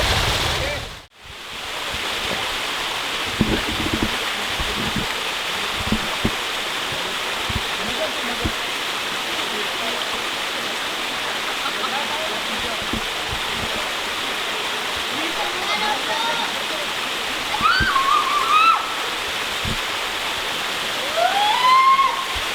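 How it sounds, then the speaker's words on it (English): Continuous roar of a waterfall, steady rushing water filling the scene, with faint bird calls near the end. "There's a series of drop offs, multiple waterfalls."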